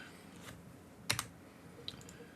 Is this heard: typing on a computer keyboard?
yes